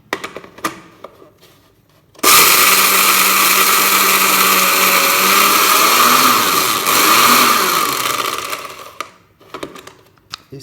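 About a cup of peanuts being ground into peanut butter with an electric beater, a loud steady high-pitched whirring motor for several seconds that starts abruptly, shifts pitch slightly as the nuts break down, then stops, with faint clicks around it.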